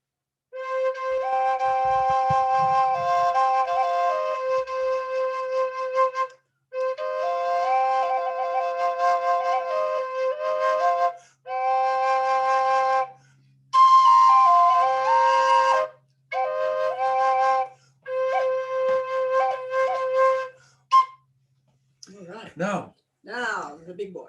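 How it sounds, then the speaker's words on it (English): A double flute, two joined pipes blown together with one holding a steady drone beneath a moving melody, plays in several phrases separated by short pauses, ending with a few scattered fragments. "this is two flutes in one. As you can see, they're joined, and you blow both flutes at the same time"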